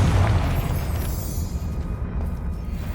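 A Confringo fire spell explosion in Hogwarts Legacy, loud booming burst at the start that fades into a rushing, crackling roar, with no talk.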